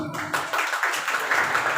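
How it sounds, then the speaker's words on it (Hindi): Clapping for Alisha John at a Passover gathering, a small group's hands patting in a dense, steady patter that starts abruptly and carries on evenly at moderate closeness. "अलीशा जॉन के लिए तालियां"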